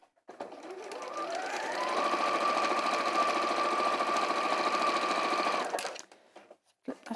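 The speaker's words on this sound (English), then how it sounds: "then we'll sew along the second line" Sewing machine stitching a patchwork seam, a steady close whirring run of about four seconds that starts and stops cleanly, with a few faint handling clicks before and after.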